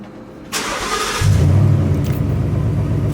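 A Lamborghini Aventador cold-starts in a garage: a sharp starter whir, then the engine catches into a loud, deep, steady idle rumble close by.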